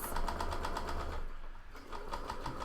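Sewing machine stitching a fabric face mask seam, a fast steady mechanical whir with rapid rhythmic needle ticks, close and continuous with a brief dip midway.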